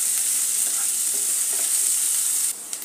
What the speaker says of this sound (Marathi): आपल्या भाज्या चांगल्या फ्राय झालेल्या आहेत